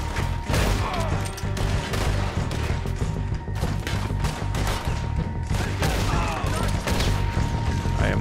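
Repeater rifle gunshots in the Western video game Red Dead Redemption 2, sharp shots packed into a dense, loud stretch of gameplay gunfire with mechanical clatter and music underneath.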